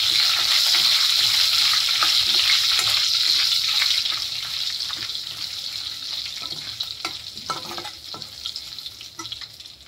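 A pinch of hing and Kashmiri chilli pieces fry in hot oil with a loud, close sizzle that gradually softens after a few seconds, broken by light stirring clicks.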